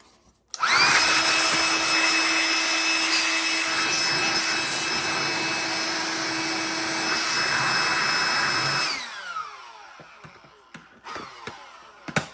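Compressed air blowing debris off Dyson vacuum cleaner parts during cleaning and maintenance, a loud continuous hissing blast held for about eight seconds, then cutting off into faint clicks and handling noises.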